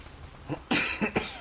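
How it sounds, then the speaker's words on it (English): A short cough, a couple of quick throaty bursts close up, preceded by a faint breath. "I'm coughing."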